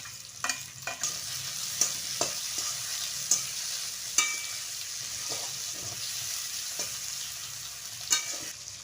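Chopped onion and tomato fry in a pan with a close, continuous sizzle, broken by sharp scraping taps of a spatula stirring at irregular intervals, with no one speaking.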